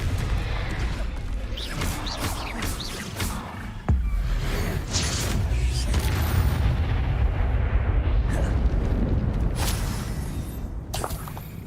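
Confringo and Bombarda spells detonate in Hogwarts Legacy, producing a dense, continuous barrage of booming blasts and crackling impacts with one sharp hit partway through.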